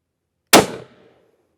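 A Cimarron Badboy .44 Magnum revolver fires a single Hornady 200 grain XTP round into ballistic gel: one loud, close, sharp report that rings out briefly and fades within about half a second, with no talk.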